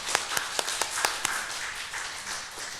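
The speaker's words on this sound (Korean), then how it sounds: "우리 서로를 우리 위해서 사랑하고 축복하며 박수 한번 하겠습니다." A church congregation claps together during a Sunday worship service, opening with several distinct, evenly spaced claps that quickly merge into a full, continuous round of applause from the room.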